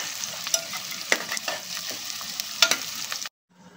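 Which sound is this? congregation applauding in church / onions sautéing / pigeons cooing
onions sautéing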